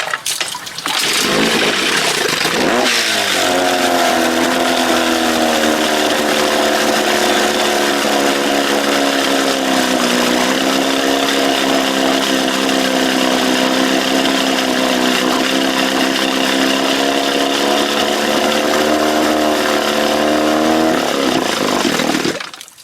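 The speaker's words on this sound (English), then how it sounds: "My throttle's open too far. And it started lean sneezing" A Johnson 20 hp outboard motor runs steadily with the throttle open too far and a lean mixture. It holds a loud, continuous buzzing drone for about twenty seconds, starting from a brief rough sputter and then settling into a sustained run.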